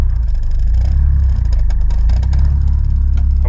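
A Citroen Saxo, an old modified car not driven for a long time, pulls away in second gear. Its engine gives a loud, steady low drone that rises slightly, with some clatter and whir throughout.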